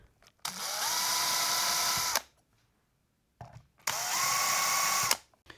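A power drill boring holes with a 3.5mm drill bit in two steady, loud whines of about two seconds each, separated by a short silence, close up with no talk.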